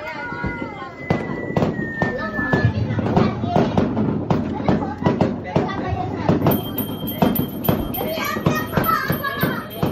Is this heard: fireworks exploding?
yes